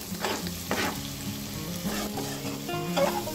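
Egg bhurji with dry prawns frying in a pan as it is stirred, a steady close sizzle broken by a few louder scraping strokes of the spoon, with no voices.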